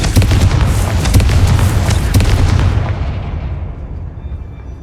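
Confringo spell explosion in Hogwarts Legacy: a loud, deep boom with crackling bursts that rumbles for a couple of seconds before fading into a long, quieter tail, with no voices.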